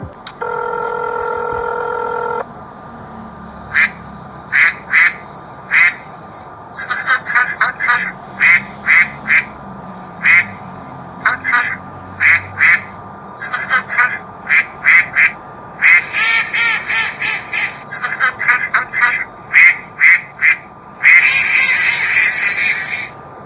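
Touch-tone dialing gives way to loud, insistent duck quacking over a phone line, a video game Easter egg reached from a 666 billboard number, the quacks arriving in rapid bursts and clusters for about twenty seconds.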